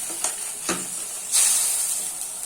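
Vegetables sautéing in a pan for Bengali veg ghugni, a steady sizzle and hiss with a few spatula scrapes and a louder burst of frying partway through.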